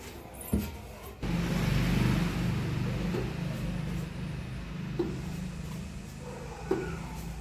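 A car pulls up and arrives outside a family's home before a dinner outing, its engine rumbling steadily at close range for several seconds, with a few faint clicks and knocks along the way.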